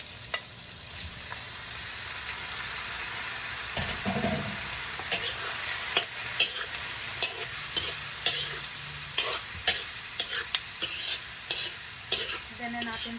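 Beef and pressure-cooked tripe fry with onions in a pot for kare-kare, giving a steady, close sizzle. Sharp scrapes and clacks of stirring come in an irregular rhythm, growing more frequent toward the end.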